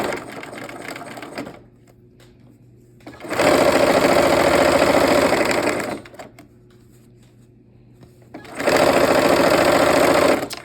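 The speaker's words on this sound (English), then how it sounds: "let's sew the rows together." Sewing machine joining quilt rows together, two loud bursts of rapid stitching separated by quieter idle hum, close up with no talking.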